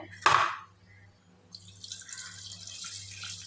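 Water poured from a vessel onto mutton in a pressure cooker, a short splashing burst followed by a softer, continuing trickle, close by and fairly quiet.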